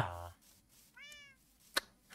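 A cat meows once, briefly and fairly faintly, inside the Minecraft video game, set between quiet stretches with a couple of other short game sounds nearby.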